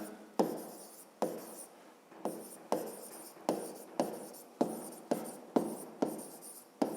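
Pen or chalk strokes write out an answer by hand for a fifth-grade maths exercise, sounding as a series of about ten close, crisp scratching strokes in a quiet room.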